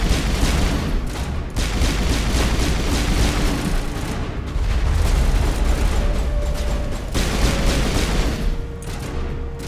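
Grenade blasts in the Mass Effect video game, a dense run of loud booms and bursts layered over a continuous rumbling battle din with no pauses.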